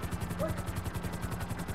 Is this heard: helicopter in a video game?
yes